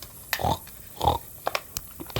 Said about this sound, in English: Pirate pig.